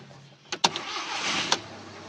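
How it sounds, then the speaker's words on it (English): A VW/Audi TSI or TDI car, fixed for a P0087 fuel rail sensor fault, has its engine started, with a few close clicks and a short cranking whir that settles into a low hum. "So we can start the vehicle."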